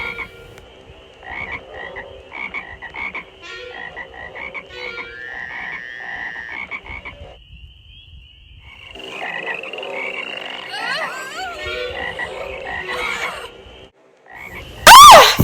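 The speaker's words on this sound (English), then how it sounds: "the frogs began to come up and to cover the land of Egypt" A loud, close chorus of frogs croaking in rapid pulsing bursts, with some higher chirping calls mixed in, in a Bible drama scene of the plague of frogs in Egypt; it ends in a sudden burst of noise.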